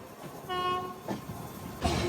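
The Ratnachal Superfast Express, an LHB-coach train, pulls into Visakhapatnam Junction. A loud, sustained horn blast sounds first, then rumbling and clattering wheels, with no voices.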